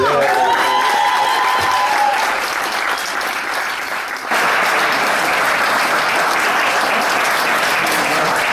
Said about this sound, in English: Let's have one more round of applause for Dr. J. Harley